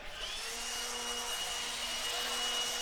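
A steady blower whirs at an RC race track, a constant mid-level hum with a faint tonal whine persisting throughout at moderate distance.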